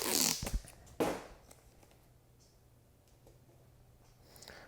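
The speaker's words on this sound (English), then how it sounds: "We want to lock down these feathers here with a little bit of tape." Tape pulled quickly from a roll to hold down pheasant tail feathers during taxidermy, two close ripping strips in quick succession, then quiet handling with faint rustles.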